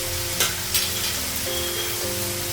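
Ginger paste sizzles and fries in a hot pan, a steady close crackle with a couple of brief stirring scrapes, no voices.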